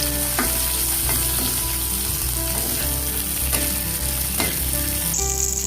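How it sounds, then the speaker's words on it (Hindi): Onions fry in a kadhai for bhindi do pyaza, with a continuous close sizzle and periodic stirring knocks, fairly loud and without any voices. "मेरा जो प्याज मैंने काटा था उसको मैं थोड़ा सा फ्राई कर लूंगी।"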